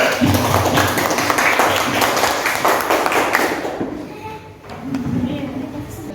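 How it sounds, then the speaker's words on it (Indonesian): Classroom pupils clap for a discussion group, a dense burst of applause mixed with voices that fades out toward the end. "Yuk, kita beri tepuk tangan untuk kelompok lavender"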